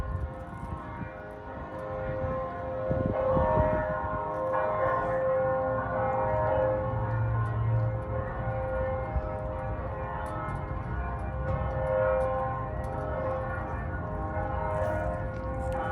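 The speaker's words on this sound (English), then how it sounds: "At noon, they do special chimes." Bells peal continuously at noon, a dense layered ringing of special chimes that carries steadily throughout, with a low rumble underneath and no talking.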